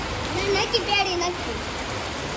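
Steady rain hiss fills the background while a voice speaks briefly over it, the downpour continuing evenly throughout.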